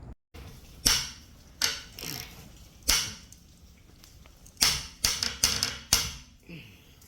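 A 14-inch ratchet turns a Craftsman nut splitter clamped in a vise, giving sharp irregular metallic clicks and clacks, close, between quiet gaps.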